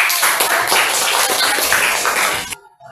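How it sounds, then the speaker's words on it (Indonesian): A classroom group of students claps together for a couple of seconds, a close, dense burst of hands that cuts off abruptly into near silence. "Beri tepuk."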